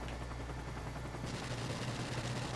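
Rapid automatic gunfire from Modern Warfare Remastered rattles continuously, dense and fairly loud with a burst-like texture, getting brighter partway through, with no voices over it.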